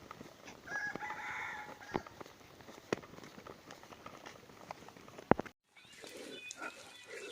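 A rooster crows outdoors in a rural forest setting; one clear, moderately distant crow rises early, followed by scattered clicks and knocks and faint background sounds.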